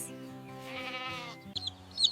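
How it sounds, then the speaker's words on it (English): A farm goat gives a single drawn-out, wavering bleat, close and clear, followed by a second, shorter and brighter call near the end. "A goat is a friendly farm animal that eats plants and can climb on"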